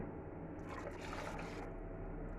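Hot water pours steadily into a cooking pot while preparing polenta, a continuous splashing, trickling flow that swells louder in the middle and stays close.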